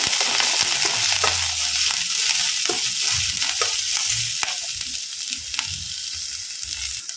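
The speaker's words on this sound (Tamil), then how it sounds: "இப்போ எல்லாம் உள்ளே சேர்த்து நல்லா வதக்கிக்கலாம்." Chopped ginger, coriander and curry leaves sautéing in a pan, a loud continuous sizzle overlaid with scattered spatula scrapes and taps, close up, no voices.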